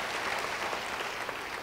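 Applause from a church congregation fills the space as a steady, dense patter of clapping, even in level throughout with no voices standing out.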